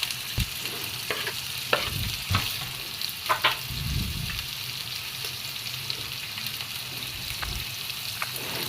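Pancit noodles with crab meat get stirred in a hot pan, a steady sizzle of frying under scattered scraping and clinking of the utensil against the pan, close and fairly loud.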